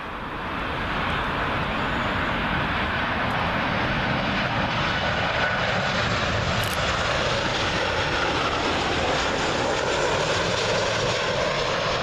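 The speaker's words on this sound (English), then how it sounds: "Up next, KLM 737, arriving from Amsterdam Schiphol." KLM Boeing 737 arriving from Amsterdam Schiphol on its Heathrow landing approach, a loud sustained jet roar passing close overhead that fills the whole span, with no talk.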